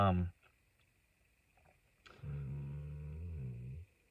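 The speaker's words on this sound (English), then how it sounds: "That's my dog." A dog gives a low, rumbling growl held for about a second and a half at close range. It follows a brief noise at the start and a quiet pause.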